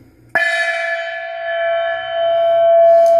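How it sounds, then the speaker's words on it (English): A single gong struck once as a sound effect, with a sharp onset and then a bright, sustained metallic ring with clear overtones that hangs and shimmers for several seconds. "Gong."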